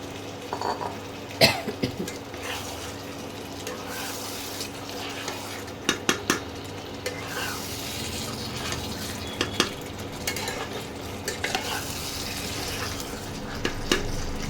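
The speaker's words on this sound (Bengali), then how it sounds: "এবার এই সেদ্ধ করা মটনটা দিয়ে দেবো।" Boiled mutton goes into a pan and gets stirred, giving repeated metallic clanks and scraping knocks at uneven intervals over a low background hiss.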